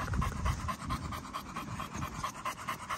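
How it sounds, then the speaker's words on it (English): A dog pants rapidly and audibly after a lure coursing run, close up, with a quick rhythmic in-and-out breathing that continues steadily throughout. "And so I want to see this panting"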